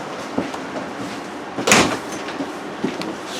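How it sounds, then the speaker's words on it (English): The door of a 2018 Crossroads Sunset Trail 222RB RV trailer is moved, giving a near thump and a short rattling slide midway through, with softer knocks before and after. "I'm going to move your door"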